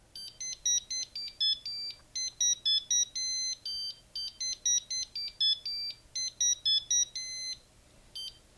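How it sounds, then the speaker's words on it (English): A thin, high electronic beeping tune from a vintage Timex digital melody alarm watch repeats its short melodic phrase several times, steady and bright over faint background hiss. "the reason why I bought this Timex was basically for the melody alarm"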